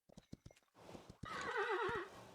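A horse in a video game gives a loud, quavering whinny after a few sharp clip-clop hoof beats, the neigh rising and wavering before trailing off.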